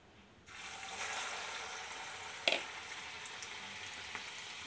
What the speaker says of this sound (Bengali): এইবারে আমি এটা যাবে ভাজার জন্য।